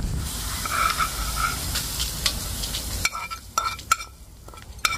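Chilies and curry leaves hit hot oil in a pan for a potato and tomato curry, producing a loud, steady sizzle and hiss that thins out, leaving lighter crackles and pops.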